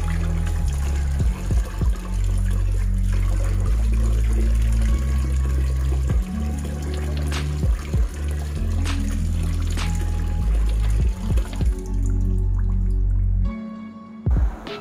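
Water drains from washed green leafy vegetables sitting in a strainer, with close, irregular drips and small trickles falling over a low steady hum, thinning out toward the end.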